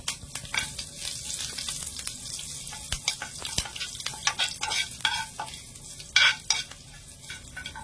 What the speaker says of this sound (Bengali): এবার আমি এখানে কিছুটা কারি পাতা দিয়ে দিলাম